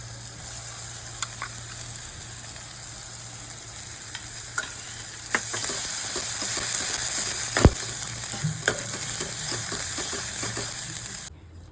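Onion-coconut masala paste for mutton curry sautés in a pan with a dense, continuous sizzle and hiss. Occasional spatula taps and scrapes sit over it, and one sharper knock stands out.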